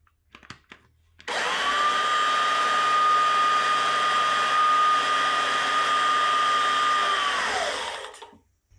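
A 110 volt electric pump switches on after a few faint clicks, running with a loud, steady high-pitched motor whine for about six seconds before winding down and stopping, close by, no talking.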